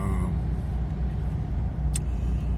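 A car cruising on a road in the Vosges, heard from inside as a steady low engine and tyre rumble with one brief high squeak partway through.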